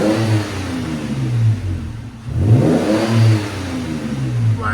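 Close exhaust note from a Toyota Tacoma 3.5L V6 with an XLerator muffler: a throaty idle broken by a couple of quick revs that swell and drop back to idle.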